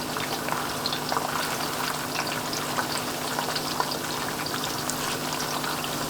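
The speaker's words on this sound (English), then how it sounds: "in the background we got the zucchini frying" Zucchini frying in a pan for a zucchini pasta, giving a steady, dense sizzle with fine crackling pops that holds evenly throughout, close and alone with no talking.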